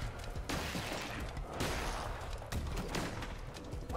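Rapid bursts of video-game gunfire fill the whole stretch, loud and dense, with brief dips between volleys and no talking over it.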